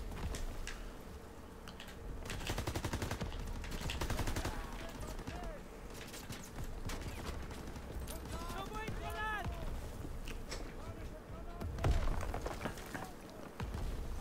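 Gunfire in the Call of Duty WWII campaign, rapid bursts of shots and clattering battle noise running throughout, with someone talking over the action.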